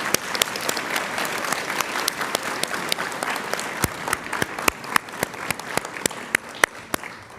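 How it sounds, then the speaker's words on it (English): A crowd of families and guests applauds at a nursing white coat ceremony, a steady wash of clapping with sharp individual claps standing out near the end, no talk over it. "I think we should give them a big round of applause."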